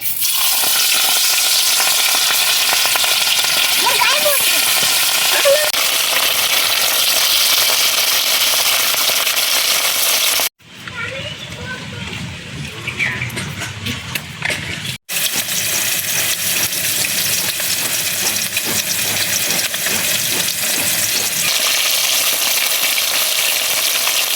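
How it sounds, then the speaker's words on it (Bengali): Loud, dense crackling of rohu fish frying in oil in a kadai, continuous for a long stretch with a brief quieter break in the middle before the sizzle resumes. "মাছগুলো ভেজে নেব, তার জন্য কড়াইতে তেল দিয়ে দিচ্ছি।"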